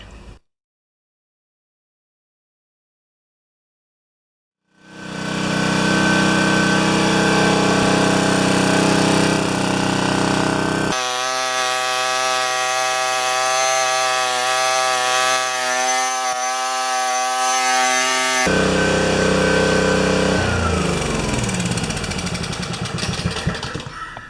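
A Toro Pace lawn mower engine is silent for several seconds, then catches and runs steadily and loudly up close, its pitch shifting partway through as the choke sticks and does not open.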